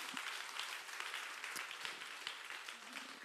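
Church congregation at a Sunday service clapping together, a steady roomful of hands heard faint and distant, continuous throughout with a voice briefly audible beneath.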